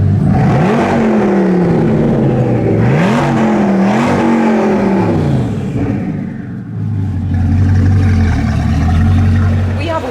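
A Bugatti Chiron Super Sport 300+ engine revving up and down in rising and falling sweeps, then settling into a steady low drone, loud and close, with voices talking over it.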